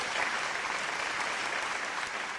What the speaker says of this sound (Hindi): जोरदार तालियां एक बार फिर